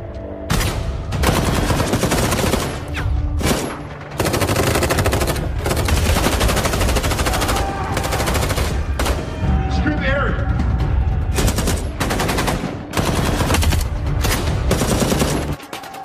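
Heavy gunfire erupts through a movie shootout in a drug lord's hideout, dense rapid machine-gun bursts and loud shots nearly continuous with brief gaps, loud and close.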